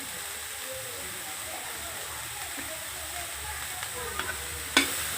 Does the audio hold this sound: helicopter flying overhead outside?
no